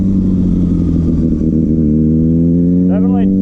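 A Kawasaki ZX6R motorcycle engine revs loud and close, pitch climbing steadily as the throttle is opened, with a strained high whine near the end.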